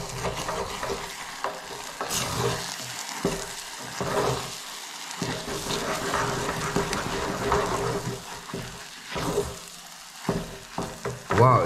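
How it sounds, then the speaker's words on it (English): A pot of pap being stirred continuously as it thickens and starts to stick, giving scraping, swishing strokes with soft bubbling and sizzle, at close range and moderately loud throughout. "So if you want to avoid that, you actually have to constantly stir it."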